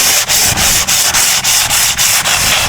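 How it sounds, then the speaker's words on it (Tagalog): Steady back-and-forth sanding of putty on a boat with sandpaper, a rasping scratch repeating in even strokes about every quarter second, close and loud with no talking. "Kunting pasada lang ng liha."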